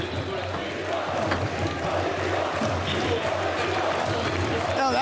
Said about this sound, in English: A crowd chanting Beepo's name.